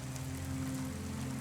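Steady rain falls under a low, humming city drone in the video game Cloudpunk, a soft continuous hiss with no talk.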